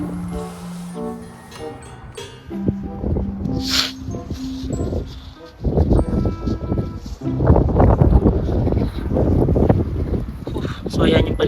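Strong wind at Smoky Lake, Alberta buffets the microphone in heavy rumbling gusts that grow louder toward the end, mixed with a person talking over it.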